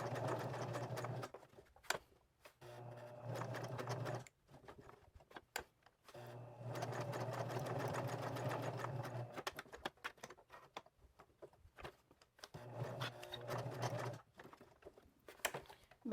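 A sewing machine stitches close along a narrow fabric edge in several steady whirring runs, each stopping abruptly and separated by short pauses filled with small clicks and handling noises.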